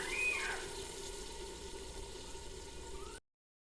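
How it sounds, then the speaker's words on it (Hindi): Water pours into a chicken masala handi during cooking, a steady close rushing splash that swells at the start, holds evenly for about three seconds, then stops abruptly. "थोड़ा सा पानी डालेंगे।"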